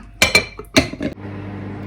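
A lid is pressed onto a microwave container of sticky rice, giving several quick hard clacks and taps of plastic and dishware close by, followed by a low steady hum.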